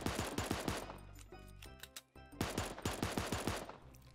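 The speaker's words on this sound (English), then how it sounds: "Recoil is pretty much non-existent at this point with the gold M16, so you might as well just shoot at them." Gold M16 firing in the video game Super Animal Royale, rapid sustained automatic bursts with a brief pause midway, loud and close with no talk.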